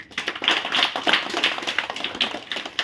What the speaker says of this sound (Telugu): ఇది నేనే చప్పట్లు కొడుతున్నా, మీకు మీరే చప్పట్లు కొట్టుకోండి